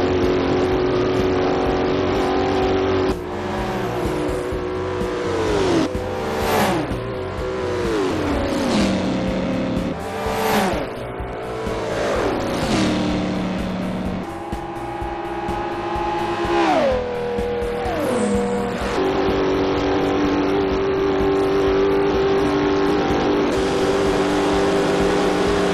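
Bugatti and GTR supercars racing in the Forza video game, engines revving hard and shifting through repeated rising and falling pitch sweeps, loud and continuous with no voices.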